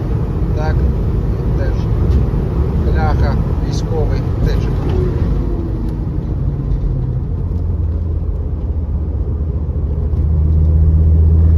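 A 1996 Volkswagen T4 4x4 van engine hums and rumbles steadily up close while driving, with a low drone throughout and a voice speaking briefly over it.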